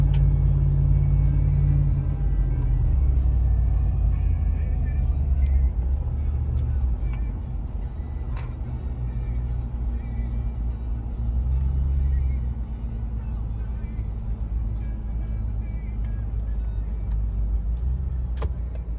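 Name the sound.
2004 Lexus GX470 driving on the highway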